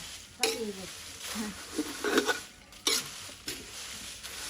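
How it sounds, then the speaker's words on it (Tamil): Dry red chillies roast in a pan for homemade chilli powder. Soft sizzling runs beneath intermittent scraping stirs of a spatula against metal, all fairly quiet and close. "இப்போ வந்து மிளகா வறுவடுது"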